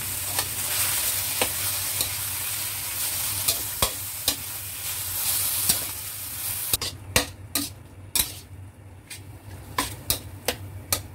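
Chicken fries in a pan for a pasta arrabbiata, with a constant sizzle and regular sharp spatula taps that grow more distinct as the hiss quietens partway through.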